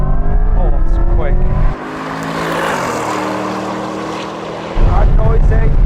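A Corvette pulls hard through a quarter-mile acceleration run, its engine roaring loudly and climbing through the gears, with a brief shift dip and a rising pitch. Voices are faintly present inside the cabin.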